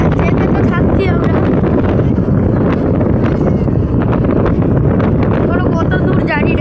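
Strong wind buffets the microphone from a moving vehicle on the way to Gorumara National Park, a loud, steady roar throughout with faint voices beneath it.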